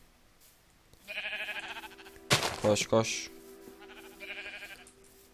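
Sheep bleating in the video game Minecraft, several short bleats near the start and again near the end, with sharp game effects and a voice talking over them.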